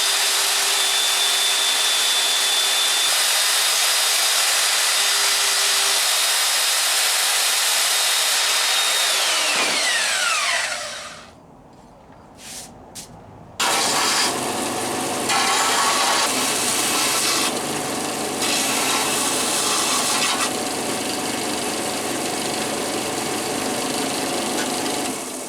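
A power tool grinds steadily through metal while cutting out a pivot arm for a motorized bike, loud and close, with a brief pause before the harsh cutting resumes and continues.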